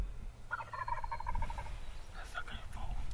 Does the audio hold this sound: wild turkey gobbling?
yes